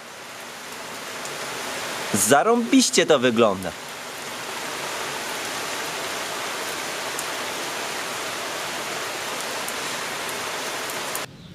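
Rain falls steadily on the window and side mirror of a Fiat Grande Punto fitted with anti-rain film, a continuous soft hiss with a brief spoken remark near the start.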